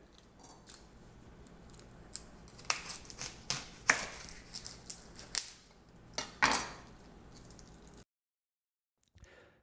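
A kitchen knife chops through a whole onion, in a run of sharp, irregular cuts on a board that are close and fairly loud and build to several hard strikes, then stop into near silence with one faint tap at the end.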